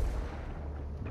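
A grenade explosion in a video game, a low, rumbling blast that fills about a second and sits dense in the lows, steady and fairly loud with no voices over it.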